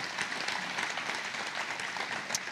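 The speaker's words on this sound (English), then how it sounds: "Let's give Miracle a round of applause." A church congregation claps and applauds at a Sunday service, a dense, steady wash of clapping that holds throughout, close and fairly loud.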